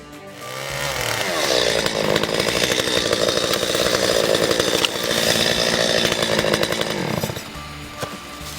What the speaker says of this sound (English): You're just cutting the tree, you know, in half preferably, or, you know, in this case, 3/4.